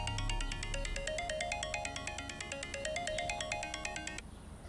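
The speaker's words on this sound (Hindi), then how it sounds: "अम्मी आपका फोन बज रहा है।" A mobile phone ringtone plays a bright, repeating electronic melody at a steady pulse, then stops suddenly.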